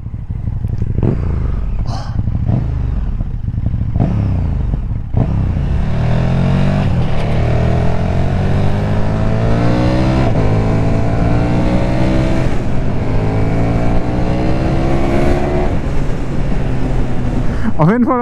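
A KTM SuperDuke 1290 R motorcycle revs in a series of short throttle blips, then holds a longer climbing revving run, loud and close, with someone talking in between.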